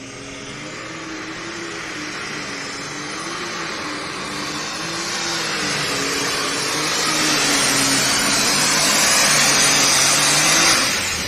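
A pulling tractor roaring at a county fair tractor pull, a loud sustained engine drone that climbs steadily in pitch and strength as the run goes on, heard alone without voices.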